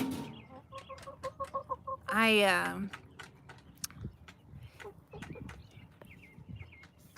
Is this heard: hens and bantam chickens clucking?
yes